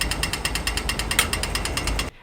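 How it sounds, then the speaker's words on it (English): An Australian pedestrian crossing button sounds its walk signal, a fast, steady run of sharp ticking pulses repeating for about two seconds before stopping abruptly, heard up close with faint background noise. "and the buzzer sounds like this"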